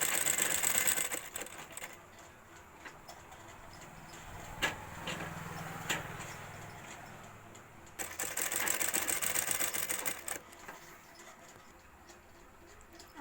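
A sewing machine stitches a fabric hand bag and its lining in fast, close bursts of rattling stitches, pausing between runs with a few clicks and handling noises.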